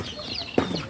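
A chicken gives a single short cluck close by in a farmyard pen, one brief loud burst over quiet outdoor background.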